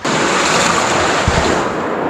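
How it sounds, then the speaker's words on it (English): Fast floodwater from snowmelt rushes through a cold cave in a loud, unbroken roar of churning water, dense and close, with a brief low thump partway through. "Wow, the water has some force over here. It's moving so quick."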